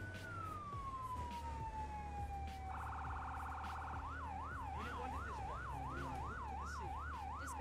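Fire truck siren in the Firefighting Simulator video game, wailing as a falling tone that turns into a rapid yelp and then a steady rising-and-falling warble, loud and close over a low engine rumble.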